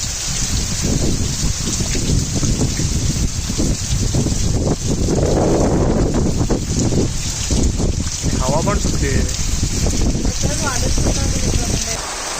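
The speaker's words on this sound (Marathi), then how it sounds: "पाऊस आहेच अजून गेला नाही जोरातच लागतो आहे हवा पण सुटली आहे" Hard pre-monsoon rain driven by wind near the Konkan coast pours in a loud, constant roar, with gusty swells and a few brief low rumbles; a voice speaks intermittently beneath the downpour.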